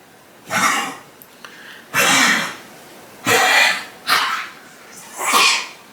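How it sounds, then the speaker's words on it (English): A dog with kennel cough gives five harsh, honking coughs spaced about a second apart, close by and loud, with a quiet room between them. "My dogs are sick, so I apologize for that yucky noise."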